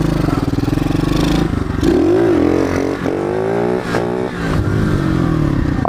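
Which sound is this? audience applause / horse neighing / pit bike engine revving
pit bike engine revving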